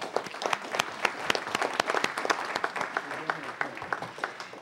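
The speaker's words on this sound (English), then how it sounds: "Everyone, please give them a round of applause." A council meeting audience gives a round of applause, scattered distinct claps from a modest crowd ringing out in an indoor room, with some voices mixed in.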